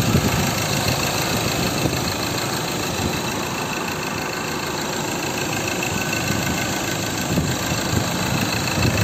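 A Ford Ranger XLS 2.2 diesel with automatic transmission idles steadily and close up, a loud, even engine rumble with a faint knocking texture and no noticeable variation or talk for the whole stretch.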